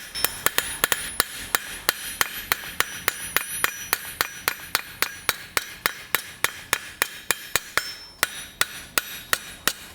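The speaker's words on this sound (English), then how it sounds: "I'm just using kind of light hammer strikes to do this" A light hammer strikes hot metal in rapid, evenly spaced ringing blows while a blacksmith forges a part for an 18th–19th century toaster. There are roughly thirty sharp, close strikes with a metallic ring and no talk.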